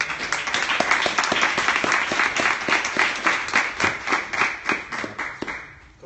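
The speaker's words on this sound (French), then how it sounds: "Et on applaudit Ludovic." A conference audience breaks into steady, dense applause for a speaker, many hands clapping close and loud throughout before fading slightly at the end.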